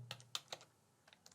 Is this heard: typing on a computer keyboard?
yes